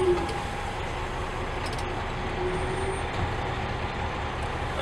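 A Western Star 6900XD dump truck fitted with a J&J dump body drives up at a ride-and-drive event, its engine a steady, fairly loud rumble with road noise and a faint high tone, no talk over it.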